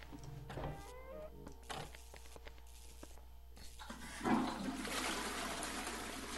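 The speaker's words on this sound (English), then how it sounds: "Flush that toilet. Flush it good." Toilet flushing in the video game Silent Hill Downpour: a rushing, gurgling wash of water surges up loudly midway and keeps pouring to the end, following a few faint clicks and mechanical noises in a quiet interior.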